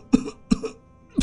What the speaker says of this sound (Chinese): 司空北辰剧烈咳嗽